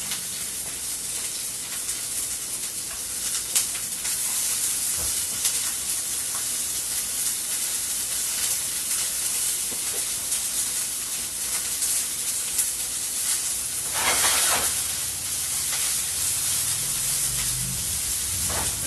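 Red and green onion, the white parts, sizzle steadily in a generous pour of olive oil in a pan, a constant close hiss with a brief louder crackle burst near the end and no talking.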